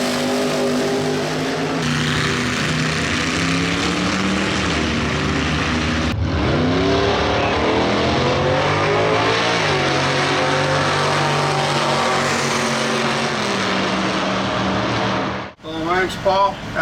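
Drag racing cars roar at Bandimere Speedway in Morrison, Colorado, during a Vintage Drag Racing Association event, a loud sustained engine drone rising in pitch as a car accelerates, with a louder burst near the end.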